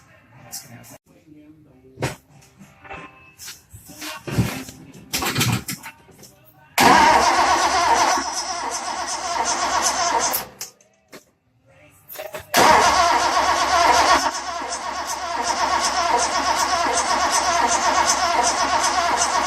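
A Datsun 240Z engine cranks over after clicks and handling noises, catches and runs at a rough, loud idle, stalls briefly, then restarts and keeps running steadily close by.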